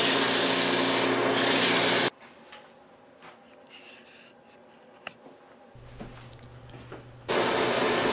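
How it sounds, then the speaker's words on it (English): Sanding a stabilized wooden bowl lid spinning on a lathe, the punky wood hardened with thin CA glue and worked up to 500 grit: two loud, steady bursts of close rasping friction separated by a quiet pause. "sanded up to 500 grit"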